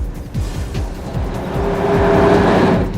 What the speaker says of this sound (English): The Ghibli's refinement in the cabin belies the power of its torquey V8 engine.